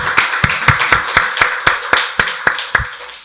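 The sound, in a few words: congregation clapping in church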